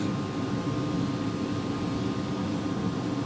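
A steady, droning aircraft engine roar with low rumbling throb, continuous and fairly loud throughout, consistent with a helicopter running up its rotor.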